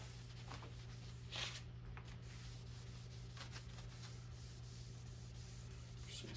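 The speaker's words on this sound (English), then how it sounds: "Let's give it a quick wipe down with a little more brake clean." A cloth rubs brake cleaner over the metal of a vintage Belgian double-barrel shotgun, quiet scrubbing strokes in a few short passes over a steady low hum, close and with no talking.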